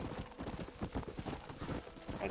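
Horse hooves clip-clopping in the video game Red Dead Redemption, a steady rhythmic trot of repeated hoofbeats at mid distance, continuous over the stretch with no voices.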